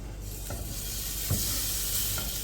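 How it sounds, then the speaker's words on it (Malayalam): Fish pieces sizzling in hot oil in a pan, a steady frying hiss throughout with a few soft clinks and stirring noises over it, no voices. "ഇനിയിപ്പോൾ നമുക്ക് മീൻ ഓരോ പീസായിട്ട് എടുത്ത് വെച്ച് കൊടുക്കാം"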